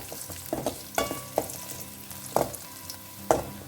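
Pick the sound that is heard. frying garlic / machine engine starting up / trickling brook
frying garlic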